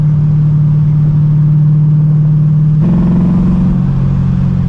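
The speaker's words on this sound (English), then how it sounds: "it sounds like it's misfiring again." A C6 Corvette Z06 engine with a misfire idles loud and close with a steady low hum, then its tone shifts partway through to a rougher, uneven note.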